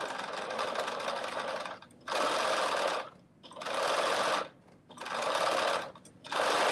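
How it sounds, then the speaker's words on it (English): Quick back stitching on a sewing machine while making a reversible bonnet: loud bursts of machine running alternate with short pauses, four or five stitching runs in a stop-start rhythm, close by. "I'm going to do a little quick back stitch,"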